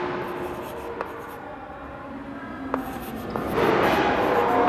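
Pen or chalk writing during a Class 8 maths lesson on compound interest, with soft scratchy strokes and a few sharp taps over a quiet room hum, growing busier and louder near the end.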